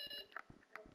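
Robot in the VR game Rec Room beeping during a Halloween session, a few short electronic beeps spaced through the moment, with faint player voices and game noise around them.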